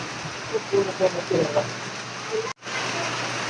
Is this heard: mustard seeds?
no